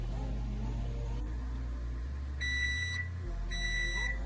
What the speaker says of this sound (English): our muffins are done by the timer